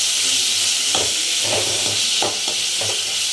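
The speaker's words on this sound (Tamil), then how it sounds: "பச்சை வாடை போகிற வரைக்கும் வதக்குவோம்" Masala sautés for village-style mutton curry with a loud, constant hissing sizzle, while a ladle scrapes and stirs the pan in several distinct strokes.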